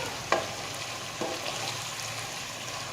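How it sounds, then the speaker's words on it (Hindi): Kofta being stirred into a yogurt gravy in a pan, giving a soft, steady wet stirring with a faint sizzle and two light scrapes of the spoon, close and alone. "अब इसके अंदर ये कोफ्ते डाल देते हैं। ये देखिए, कोफ्ते बिल्कुल भी नहीं टूट रहे। इनको अच्छी तरह इसके अंदर मिक्स करते हैं"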